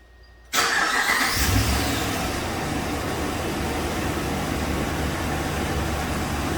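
A 2011 Ram 1500 4x4 pickup with a transmission limp-mode fault cranks briefly, catches, and settles into a steady idle hum that continues to the end.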